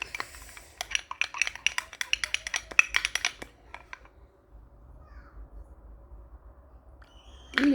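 Homemade slime is stirred in a bowl, with a quick, uneven run of sharp clicking and tapping from the utensil against the bowl, followed by a few seconds of near quiet.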